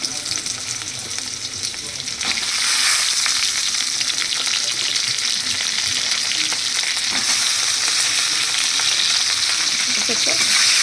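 Pointed gourd hits hot oil in a wok, the frying rising into a loud, dense sizzle that holds steady with faint stirring scrapes underneath.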